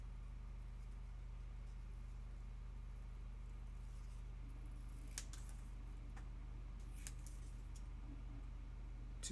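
Scissors fuzzy-cut paper, trimming around cut-out pieces for a craft project. A few faint, crisp snips come and go over a quiet, steady background hum.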